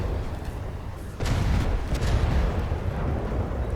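Ship cannons fire in a video game space battle, cram cannons on bow, stern and turrets, giving a dense, loud rumble of booms that swells sharply partway through and keeps pounding steadily.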